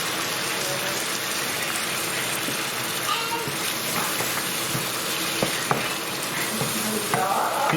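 Beef madras gravy sizzles loudly and continuously in a pan on an induction hob, with occasional scrapes and taps of stirring over the dense frying hiss.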